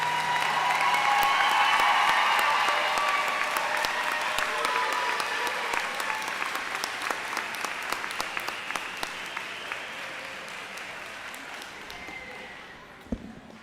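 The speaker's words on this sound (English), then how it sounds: "I want to ask for just one more huge round of applause for these graduates." Sustained audience applause for graduates at a high school and adult education graduation ceremony, loud and dense at first and then slowly thinning over about fourteen seconds, ending with a few scattered claps and a sharp knock.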